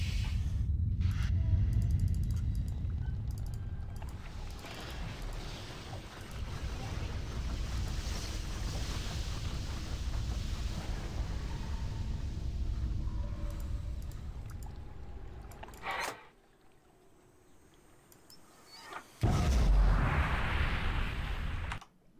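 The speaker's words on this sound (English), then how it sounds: "The water's gonna get all bubbly now." Water switched on in the game Riven, a broad steady rush with a low rumble and sloshing, churning texture like bubbling water, dropping away near the end before a brief loud surge returns.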